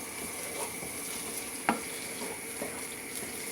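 Ingredients stirred and fried in tomato paste in a pan for stuffed grape leaves, a steady close sizzle with a single sharp scrape of the spoon midway and no voices.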